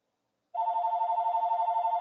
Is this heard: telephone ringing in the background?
yes